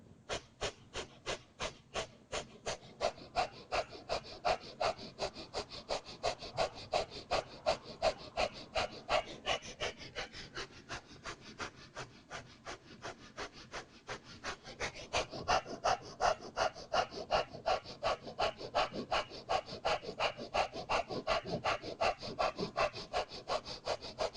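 Rapid, rhythmic yoga breath of fire, with quick forceful nasal exhales pulsing evenly at about three per second, close and fairly soft, swelling slightly louder in stretches and continuing without pause or talk.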